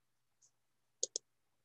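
Computer mouse clicks in a quiet room, one soft click followed by a quick close pair of crisp clicks.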